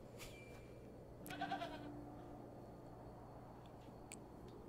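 A goat bleats in the video game The Excavation of Hob's Barrows, a short wavering cry rising briefly over a steady, quiet ambient backdrop.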